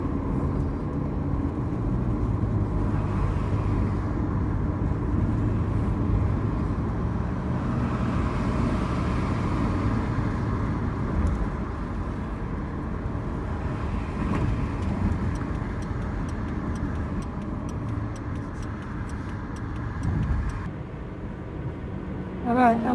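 Car engine and road noise as a vehicle pulls up to a bank, a steady low rumble throughout with faint background sounds and no speech.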